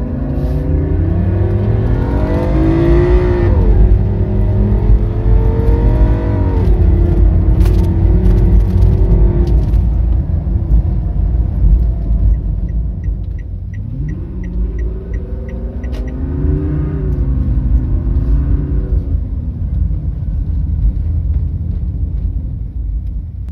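The 80 HP engine of a Toyota Calya or Daihatsu Sigra revs and accelerates up through the gears, rising and falling in two long pulls with a steady rumble throughout.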